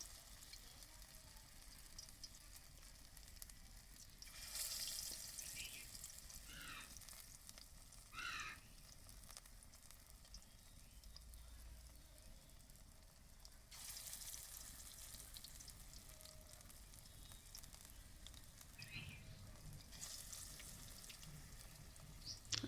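Battered pointed gourd (potol) fritters drop into hot oil and fry with a soft, steady sizzle that continues throughout, with brief clinks of utensils in between.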